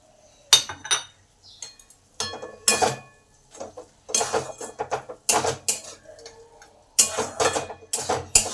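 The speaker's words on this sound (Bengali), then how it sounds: "বড়ি ভাজাগুলো দিয়ে দিই।" Fried lentil dumplings are dropped and stirred into a cooking pan with thankuni leaf chorchori, giving irregular metallic clinks and scrapes of utensil on pan in short bursts over quiet gaps.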